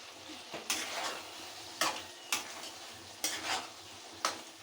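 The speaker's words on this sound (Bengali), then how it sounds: "বন্ধুরা দেখছেন আমার মশলাটা কিভাবে ফুটছে" Spice masala for a potato and pointed gourd korma sizzles softly in a pan, with about six separate spoon strokes scraping through it at uneven intervals, quiet and close.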